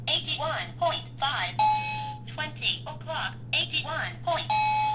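A digital talking alarm clock sounds its alarm in repeated short bursts of bright electronic chirps and a synthetic voice, fairly close and loud, over a low steady hum.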